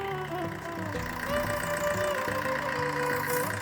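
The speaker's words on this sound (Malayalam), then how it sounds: "Diesel engine. കണ്ടാ" A 1.3 litre second-generation diesel car engine idling close by, a steady low knocking rumble with an even mechanical clatter throughout.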